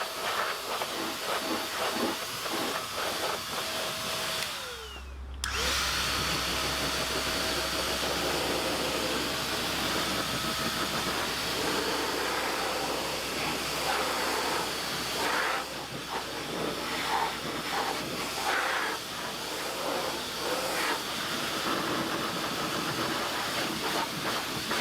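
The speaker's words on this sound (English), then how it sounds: "the Metro mini blower was additionally employed to drive out any trapped or unseen water from the car's various" A Metro mini blower drying a classic Morgan car gives a steady loud rushing hiss of air, with a deep low rumble kicking in after a brief dip and running on continuously.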